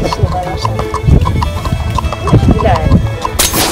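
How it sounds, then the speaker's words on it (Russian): Horses at a petting zoo with hooves clip-clopping on hard ground in an irregular rhythm, close and clear, while people talk nearby. "Кормить будешь лошадок? Или просто посмотришь на них?"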